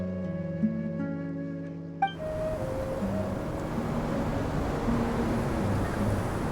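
Strong gusting wind of a sandstorm in the video game Genshin Impact, a broad steady roar that rises abruptly after a short musical passage and holds loud and continuous to the end, with no talk.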